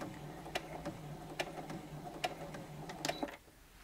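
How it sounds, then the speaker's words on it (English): A Brother Innov-is 15 sewing machine stitching at its slowest speed, giving a low hum with evenly spaced ticks roughly every second. The motor stops just before the end. "then press the button to sew, and it will sew in the slowest speed"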